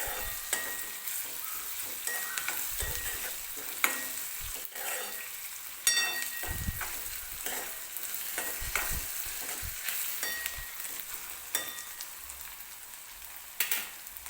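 Chopped tomato sautéing in a pan for upma, a steady close sizzle broken by frequent scraping stirs and clinks of the spoon, with no voices.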